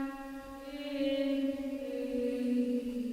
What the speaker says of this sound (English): And certain words from the melody have been picked out and treated with extra reverb,